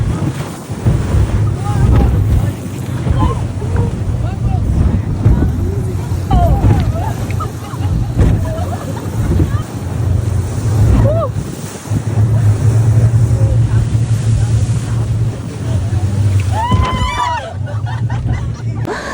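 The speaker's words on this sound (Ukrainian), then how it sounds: "насправді такі хвилі, і е, наш човен дуже-дуже сильно стрибав" A speedboat slams over choppy waves off Ilha Grande, Brazil, amid roaring wind and rushing water, with occasional shouts and voices mixed into the loud, continuous noise.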